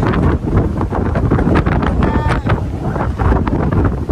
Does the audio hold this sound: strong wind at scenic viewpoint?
yes